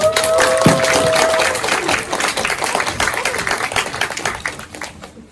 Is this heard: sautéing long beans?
no